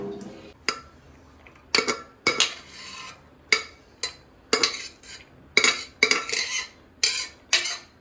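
Dishes and a pot clinking and clattering while being washed in a home kitchen, irregular sharp metallic knocks and scrapes in bursts, close and fairly quiet.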